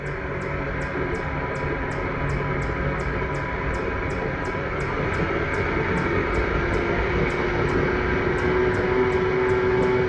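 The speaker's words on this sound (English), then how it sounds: "guy's winding up his motor over here" A bass boat motor revs hard with a loud, steady, roaring drone and a faint repeating tick on top, continuous throughout.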